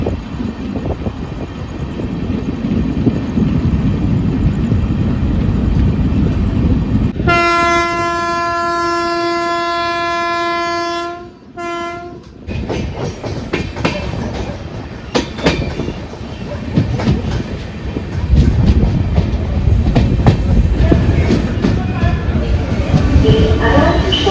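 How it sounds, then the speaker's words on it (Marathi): An empty Mangaluru Express train rumbles loudly along Konkan Railway tracks, broken midway by a long blaring horn blast, then continuing with rattling clatter and rushing noise. "बघा ट्रेन रिकामी चालली आहे"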